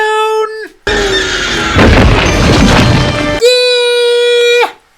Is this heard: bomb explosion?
yes